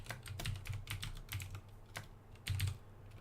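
Fingers type on a computer keyboard while coding in Unreal Engine C++, making quiet, uneven clicky keystrokes that come in quick bursts with short pauses.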